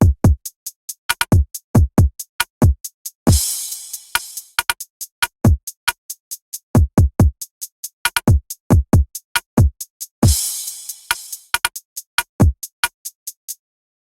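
A busier programmed trap drum loop from an FL Studio remake of a song plays on its own. Rapid clicking hits and deep kicks repeat in two matching cycles, each marked by a washing cymbal crash.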